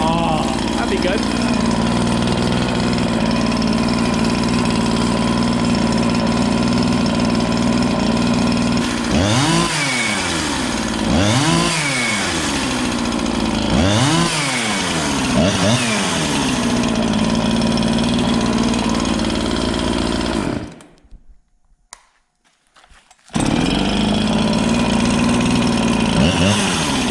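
A chainsaw with low compression runs loudly and steadily near the microphone, its engine pitch swooping up and down in several revs midway before cutting out briefly and restarting; a voice speaks over the engine at times.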